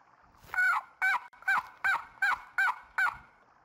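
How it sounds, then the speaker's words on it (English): Turkeys in the video game Uktena 64 gobble and honk in a steady run of seven loud, evenly spaced calls, close and clear with no talk over them. "Here, turkeys."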